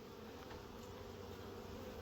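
Honeybees from a package shipped from California, filling eight frames, give off a steady, dense, close buzzing hum without pause.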